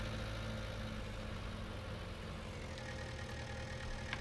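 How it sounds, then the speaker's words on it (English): A Ford tractor engine in Farming Simulator 19 runs at a steady low idle, giving a continuous droning hum with a constant level throughout and no talking. "This Ford is very slow, but I love this tractor."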